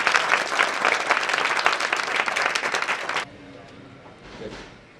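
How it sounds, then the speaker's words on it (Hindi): A gathering at a satsang bursts into dense, lively clapping to welcome an arriving guest, loud and continuous for about three seconds before cutting off abruptly into quiet room murmur. "ये ताली बजा के पटेल जी का स्वागत करेंगे"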